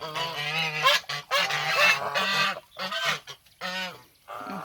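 Several geese honk loudly and repeatedly at close range while splashing in water inside a cement mixing tray, their calls coming in bursts with short gaps between them.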